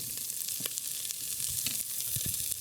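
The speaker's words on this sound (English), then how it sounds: "I'm gonna add a little oil just to make it sizzle" Vegetables for vegan chili sizzle and crackle steadily in hot oil, close up, with a few soft clicks and stirring sounds scattered through it.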